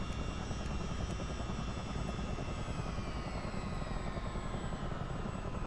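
A Miltech CH-47 Chinook twin-rotor helicopter in a flight simulator drones steadily with loud, constant engine and rotor noise, a whining turbine tone slowly shifting over the continuous roar, with no talk.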